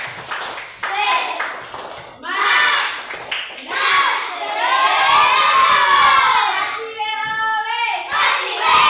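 A classroom of children in a coding and artificial intelligence lesson performs a spirit cheer, shouting together in chanted bursts with a quick run of rhythmic claps near the end, loud and close throughout.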